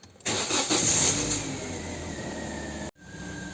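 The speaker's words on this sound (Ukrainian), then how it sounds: "Запускаємо двигун." A Great Wall C30 car engine cranks and fires up loudly, then settles into a steady idle hum before a brief cutoff and resumption.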